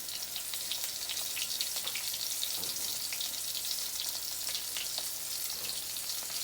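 Chicken of the Woods mushrooms, coated in flour and egg, fry in a pan with a steady, close sizzle and crackle that runs unbroken throughout, with no talking.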